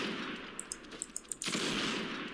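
Several sharp sniper rifle shots in the Roblox game Arsenal, spaced irregularly over a steady background hum, followed by a thicker burst of game noise.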